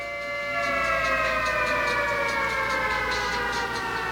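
Civil defense siren wailing loud and steady during an emergency alert broadcast, one sustained rising tone holding with no voices over it.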